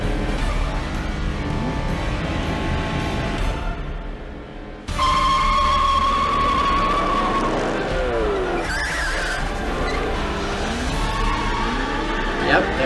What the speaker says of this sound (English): But the Mercedes again sounds really good.